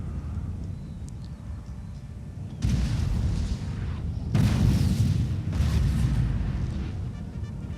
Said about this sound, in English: my 12-pounder artillery horse batteries, or foot artillery battery firing